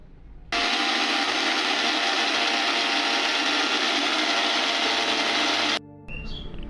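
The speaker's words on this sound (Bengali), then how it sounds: "সব কিছু আমি ব্লেন্ডারে দিয়ে ব্লেন্ড করে নেব।" An electric blender whirs loudly and steadily for about five seconds, blending a spice mix with lemon juice and mustard paste, then cuts off abruptly.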